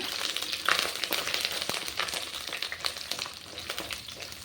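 Ten to fifteen garlic cloves sauté in oil in a clay pot for a village-style brinjal kara kuzhambu, a close, uneven sizzle with scattered clicks and scrapes of stirring.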